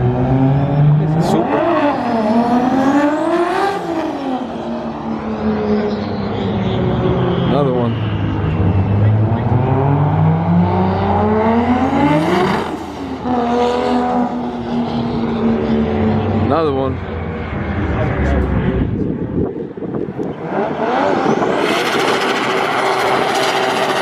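An Audi R8 and a Nissan GT-R racing at a roll-race event, engines howling through rising and falling gear sweeps as they pass, loud and sustained with repeated upshifts and no clear voice.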